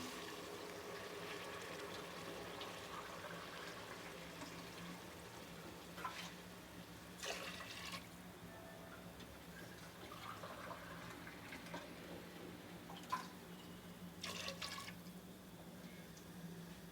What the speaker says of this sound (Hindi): अब जिस कप से मैंने दाल को नापा था उस वही 3 कप मैं पानी की जो है वो इसमें शामिल कर दूंगी